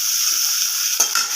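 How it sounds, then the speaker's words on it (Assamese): Onions frying in oil in a pan, giving a steady bright sizzle, with a couple of quick scraping stirs of a spoon near the end. "পিঁয়াজখিনি অকণমান ভাজি লওঁ।"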